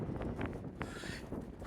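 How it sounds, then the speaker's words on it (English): Steady low wind rumbles and buffets against the microphone on the Pacific Crest Trail near Desolation Wilderness, with a faint whistling gust partway through. "It's really windy."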